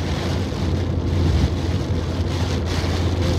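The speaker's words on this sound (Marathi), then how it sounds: "हा पाऊस खूप जोरात सुरू झालेला आहे" Heavy monsoon rain drums on a vehicle during a road trip through the Konkan region near Amboli, making a dense, steady roar that fills the whole clip without letting up.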